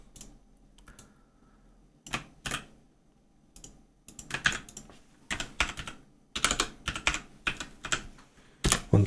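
Bursts of typing on a computer keyboard while a game setting (a ReShade input scale value) is entered, rapid clustered keystrokes in several runs with short pauses, close and fairly loud, no talking.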